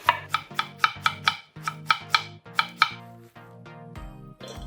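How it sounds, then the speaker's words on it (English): A knife slices thinly through radish for Korean radish salad, sharp rhythmic chops on a cutting board in a quick steady run, close and crisp, over soft background music. "Thinly sliced radish,"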